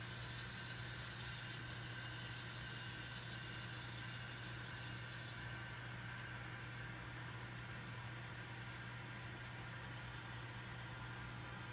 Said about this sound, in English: the horn, the engine sound